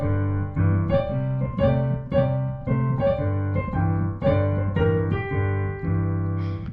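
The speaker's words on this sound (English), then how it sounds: "we can slide that flat five into the perfect fifth" Blues piano lick in G sliding from the flat five to the perfect fifth, with shuffling repeated chords in a steady bouncing rhythm, played close and alone.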